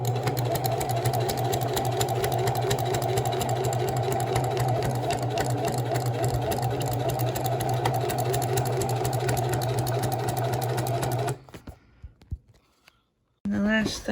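A sewing machine runs steadily, loud and close, its motor humming with rapid stitching for about eleven seconds as it sews a seam on a car gaiter, then stops abruptly, leaving brief quiet handling sounds and a short burst at the end.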